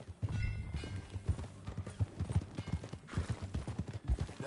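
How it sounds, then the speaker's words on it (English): Horse hooves clip-clopping in a steady rhythmic gait while riding in the video game Red Dead Redemption 2, close and moderately loud, alone with no talking. "Get on your horse, John."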